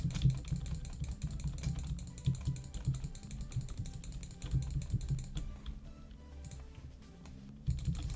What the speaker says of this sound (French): Excusez-moi si vous entendez une touche de clavier